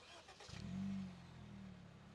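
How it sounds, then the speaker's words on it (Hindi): A 2025 Honda Amaze engine starts by remote key after a faint click, cranking briefly into a quick rev and then settling into a low, steady idle. "ये आपको एक एक्स्ट्रा की मिलती है, ये वाली, जिससे आपको प्रेस करके रखना है और इसका इंजन स्टार्ट हो जाता है।"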